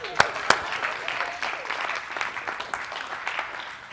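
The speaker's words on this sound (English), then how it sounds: "Give him a hand clap." An audience in a church service breaks into applause, a burst of scattered hand claps with a couple of sharp close claps at the start, spreading into a dense steady clapping of moderate loudness.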